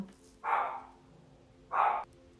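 A female dog gives two separate loud barks indoors, each about half a second long and spaced over a second apart, with a low hum continuing underneath and no voices.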